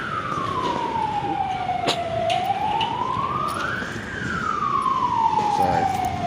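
A fire truck siren wailing as firefighters arrive at a school fire, one clear rising and falling sweep sounding loud and fairly close over steady background noise.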